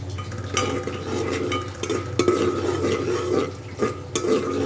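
Onions and whole cumin seeds sizzle as they shallow-fry in a pan while a spoon stirs and scrapes now and then, with a few sharp clinks against the metal.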